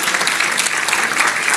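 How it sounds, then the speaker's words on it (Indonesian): A church audience applauds a pianist with dense, steady clapping from many hands, loud and continuous for the whole moment. "Kasih tepuk tangan untuk saudari kita."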